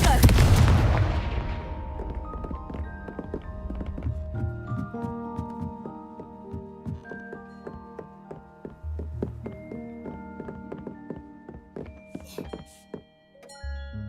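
Confringo fire spells from a Hogwarts Legacy duel go off as a heavy boom and then a run of thuds and blasts mixed with chiming magical tones. They are loud at the start and then steadier and softer.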